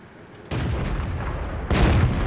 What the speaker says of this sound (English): HFH just pumps a small shot into Simon, and the KV-2 comes in with a big old shot